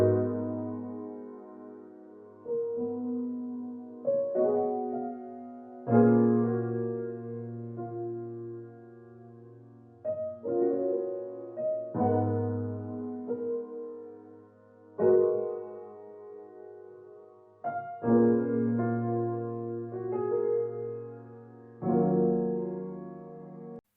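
A dreamy R&B-style vintage keys sample with EQ and vintage reverb plays soft, lingering chords in a slow repeating progression, with warm low notes and a wash of reverb tails, moderately quiet and alone.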